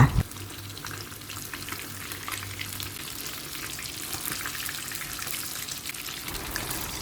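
Kingfish pieces frying in oil in a small pan, a steady, even crackling sizzle that holds at a moderate level throughout, with a low hum under the first few seconds.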